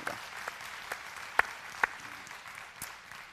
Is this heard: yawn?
no